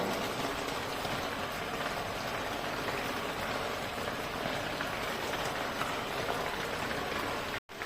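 Steady rain falls in rainy weather, a continuous dense hiss that lasts throughout before cutting off abruptly at the end.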